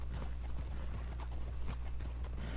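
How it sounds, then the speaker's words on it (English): Horse hooves clip-clopping in a steady, fairly close rhythm over a constant low hum, with no clear whinny standing out. "Oh, he's just using his horse."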